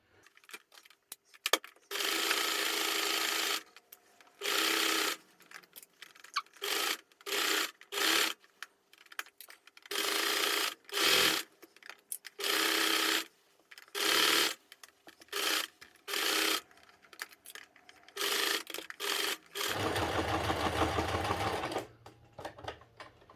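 Sewing machine stitching fabric pieces of a 1940s-style trilby percher hat together, running in repeated close bursts of steady whirring with short pauses between, loud and alone without talk, ending on a longer lower hum.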